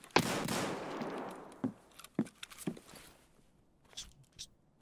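A shotgun fires rapid double-tap shots in a video game, a loud close blast followed by several sharper, fainter reports and clicks spaced under a second apart.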